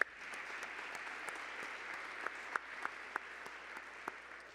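Applause from a conference audience at a closing keynote, a steady, fairly quiet wash of many hands clapping with a few sharper individual claps standing out, continuing without talk.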